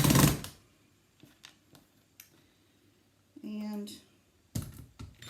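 Screws are driven into a wooden lazy susan piece: a short, buzzing driver whir of under a second stands between scattered taps and clicks. A brief voice is heard at the start.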